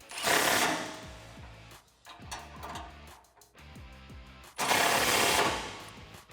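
A ratcheting socket wrench tightens the bolts on a stainless steel oval bull bar for a 2016-2019 Tacoma, producing rapid repeated clicking bursts up close, broken by short pauses and louder rustling handling noise.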